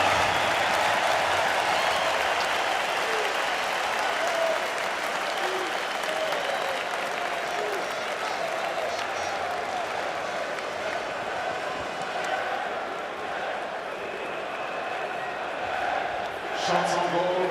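Sustained applause from a packed, excited arena crowd after a USA versus Germany ice hockey game at the 2017 IIHF World Championship, steady broadband clapping and cheering that holds at a fairly even level throughout, with a brief swell near the end.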